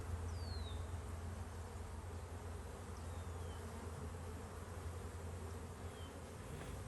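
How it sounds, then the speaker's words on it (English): A dense, steady drone of many honeybees flying close by, continuous and unbroken, with no talking. "All that circling, all that figure 8, that's orientation flights, and that's likely new bees."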